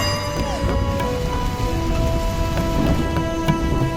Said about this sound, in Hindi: अरे बारिश